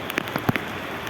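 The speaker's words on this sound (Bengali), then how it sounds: "ছোট মিমি, বড় মিমি, দেখো তোমরা এই বৃষ্টির মজা নিতে পারছো না" Rain falls outdoors, with a few distinct close drops pattering on a surface over a quiet background in a brief moment without speech.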